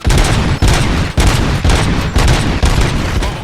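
Loud, rapid bursts of gunfire in a Robocop series action scene: about six dense volleys in quick succession, each cut by a short gap, with no voices over them.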